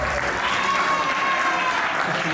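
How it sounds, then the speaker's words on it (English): Audience applauding for a partner named Daryl at a live presentation event, a steady wash of clapping filling the room for a couple of seconds, with no distinct voices over it. "Give Daryl a little applause, absolutely."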